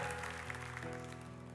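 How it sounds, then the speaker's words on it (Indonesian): Church congregation at a Sunday service claps together softly at a distance, a faint patter of applause over sustained keyboard chords. "Tepuk tangan untuk Tuhan"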